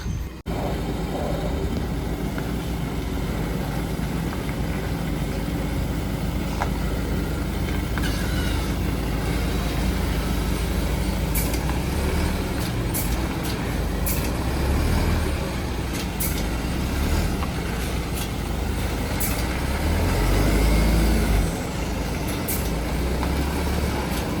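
A Bharat Benz 1917 truck loaded with coconut shells drives along a narrow road, its engine a steady low rumble with rattling and road noise throughout, a few hissing and clanking bursts, and a louder surge near the end.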